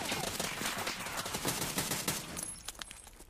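Rapid video game gunfire, a long burst of automatic shots with a grenade thrown in a close-quarters ambush, dense and loud for most of the stretch before thinning into scattered pops near the end.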